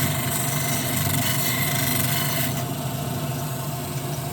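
A polishing wheel runs against a surface, giving a loud, steady rasping whir with a continuous rubbing hiss that softens slightly halfway through.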